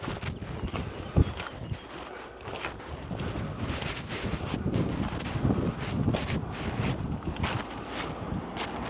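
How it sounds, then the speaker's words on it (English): Gusty wind on a mountain pass in Portugal buffets the microphone with a continuous rough rumble, rising and falling, and a brief thump early on. "It is a bit windy up here at the moment"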